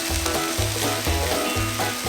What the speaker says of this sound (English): You can see it sizzling